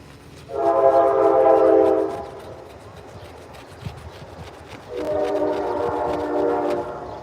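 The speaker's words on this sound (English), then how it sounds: "That loud zombie train." A loud train passes close by, sounding two long, sustained blasts of its horn separated by a few seconds of rumbling rail noise.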